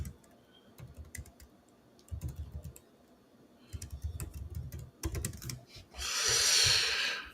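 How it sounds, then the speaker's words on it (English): Computer keyboard typing in bursts of quick, light clicks separated by short pauses, fairly close and moderately quiet, with a louder hiss of noise near the end and no talking. "Oh my gosh, my typing."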